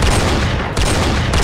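Loud, continuous gunfire from the Roblox shooter game Arsenal, a dense burst of rapid shots with a brief dip in the middle before the firing resumes.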